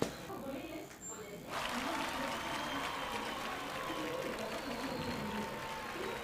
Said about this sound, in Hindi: काफी सारी भीड़ है ना,